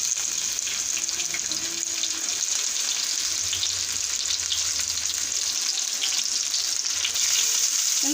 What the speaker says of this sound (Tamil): வெங்காயம் போட்டுக்குவோம்.